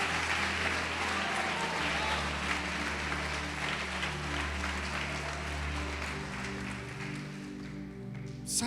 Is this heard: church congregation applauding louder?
yes